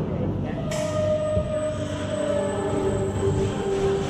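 A Velociraptor roller coaster train at IMG Worlds of Adventure gives off a steady mechanical rumble. A sustained high metallic squeal sets in abruptly and holds close and loud throughout.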